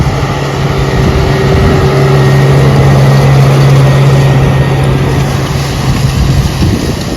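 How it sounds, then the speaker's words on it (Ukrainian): A Deutz tractor pulls a 2005 SZ-5.4 seed drill sowing peas on minimum-tilled ground, its steady engine drone running loud and continuous with a low rumble and faint mechanical rattle, no voices. "звичайно сівалкою СЗ-54 2005 року сівалка і трактор Дойц"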